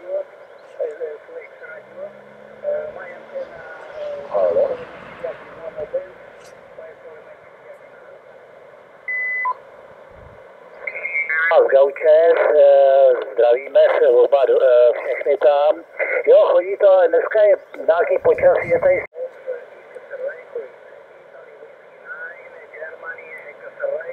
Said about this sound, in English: We've got some QSB, it's taking some of the stations right down and bringing them back again.